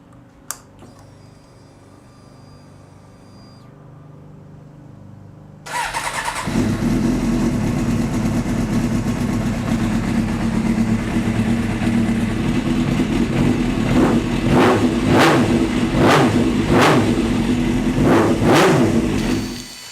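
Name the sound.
Suzuki GSXR 600 motorcycle engine starting and revving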